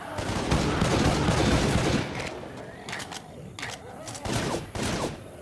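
Rapid bursts of gunfire from the video game Left 4 Dead 2, with dense sustained shooting at first, then scattered sharp shots and short volleys, loud and close.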